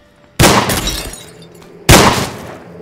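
Two loud, sharp gunshot blasts in the survival game Survive The Nights, about a second and a half apart, each with a harsh burst and a ringing, decaying tail.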